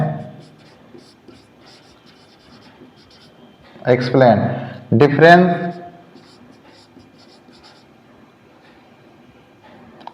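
A question is written on a classroom board, a faint, continuous scratching of writing heard through most of the stretch, with a couple of brief bursts of speech in the middle.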